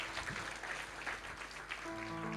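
A church congregation claps enthusiastically in a dense, continuous wash of applause, with a sustained musical tone from keyboard or organ rising underneath toward the end.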